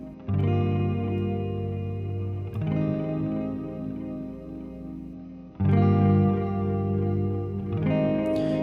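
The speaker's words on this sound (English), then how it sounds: "This is Echo by Ableton. This is a tape echo emulation." Synth chords run through Ableton Echo, a tape echo emulation, swell in three sustained, wavy washes. Each carries a wobbling, blooming repeat tail, loud and alone, and bright noisy bursts mark the chord changes.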